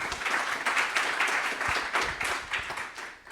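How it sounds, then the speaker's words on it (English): An audience at a product growth conference at UC Berkeley breaks into applause for a moderator, with brisk, fairly loud clapping that holds steady and begins to thin out toward the end. "Just give a round of applause"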